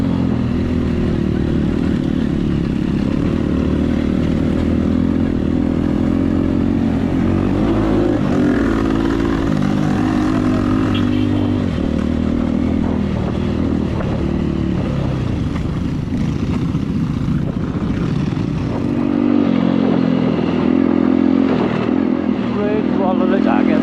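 Dirt bike engine running steadily and loud throughout during an off-road enduro ride in Nepal, with a continuous low drone and some clatter, and voices talking over it.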